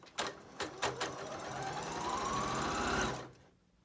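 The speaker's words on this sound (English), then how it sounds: "Push the start stop button, it'll automatically stitch for me." A Janome sewing machine runs a straight stitch after a few clicks of the start button, its needle motor whirring in a fast, even, close rattle for about three seconds before stopping.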